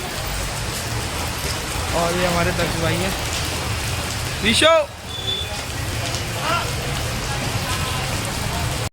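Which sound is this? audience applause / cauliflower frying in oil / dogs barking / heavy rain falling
heavy rain falling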